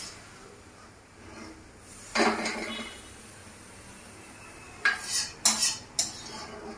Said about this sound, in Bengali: এখন আমি শাকটাকে তুলে নিচ্ছি বাটিতে